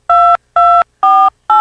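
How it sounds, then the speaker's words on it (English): Four loud, evenly spaced telephone keypad tones beep one after another, each a short steady dual-pitch note with silence between, as a credit card number is keyed in. "I'll just dial in my credit card number"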